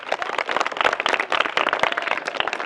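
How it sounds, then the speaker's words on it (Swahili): An audience applauding the presenters at a children's program, dense continuous clapping from many hands at close range with no talk over it. "Tukawapongeze kwa makofi."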